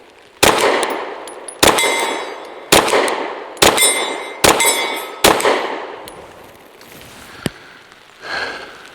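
A Derya Arms DY9 shotgun fires about six loud, sharp shots in an uneven sequence at a steel target 20 yards away outdoors, each one followed by a metallic clang and a ringing decay, then a few fainter sounds at the end.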